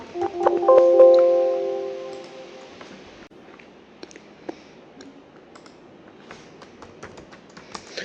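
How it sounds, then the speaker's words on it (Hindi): Keyboard typing on a computer while entering Hindi text with Google Input Tools: light scattered key clicks and taps, with a brief tonal ping near the start, fairly quiet and without speech. "गूगल इनपुट टूल चालू कर लेता हूँ। यहाँ पर मैं लिखता हूँ सोमवार।"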